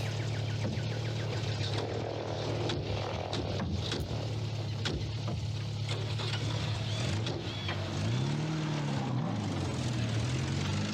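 A propeller plane drones steadily and loudly throughout, its low engine hum holding constant, with a rising and falling whine near the end and some clatter mixed in.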